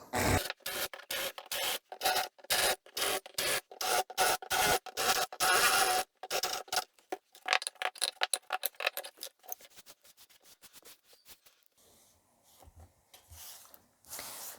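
Drill boring screw-head holes into wood while making a soap mold, heard as rapid rhythmic bursts of whirring and scraping that come close and loud at first, then thin out into sparser, fainter scrapes and clatter.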